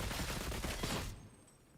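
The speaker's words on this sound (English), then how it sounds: "Dual auto pistols." Dual auto pistols in Space Marine 2 fire a dense, rapid fusillade of overlapping shots for about a second, then cut off abruptly into near silence.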